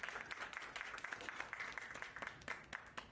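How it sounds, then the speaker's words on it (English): A crowd applauding steadily at a Q&I Today event in Jammu, claps blending into a continuous wash that holds at an even level throughout. "Please have another round of applause for each one of you."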